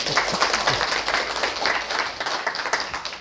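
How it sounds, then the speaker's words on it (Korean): A seminar audience claps for a few seconds in a dense patter at close range, then the clapping thins out. "맞는 것 같으면 박수 한번 쳐주십시오."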